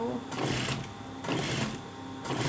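A sewing machine stitches a round neckline on a garment in close, loud bursts of rapid mechanical whirring that start and stop, with someone talking over it.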